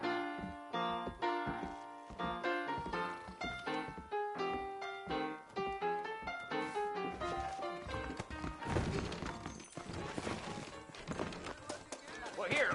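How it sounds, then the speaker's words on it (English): Horses clip-clopping at a steady walk in Red Dead Redemption, the hoof beats set under music and game sounds with talk over the top. "I got the horses saddled up and ready out front."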